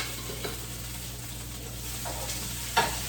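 Thyme added to hot oil in a pan on a stove gives a steady soft sizzle and crackle, with faint stirring scrapes and a brief sharper clink near the end.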